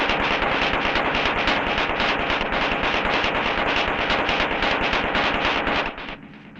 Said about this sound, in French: les mesures de l'isolement au bruit d'impact, reproduit artificiellement par une machine à choc